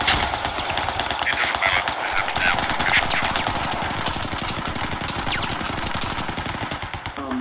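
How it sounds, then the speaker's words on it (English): Gunfire in the military shooter Squad, a steady rapid stream of automatic shots that stays loud and close throughout, with a grinding, engine-like edge. "Another shot going in."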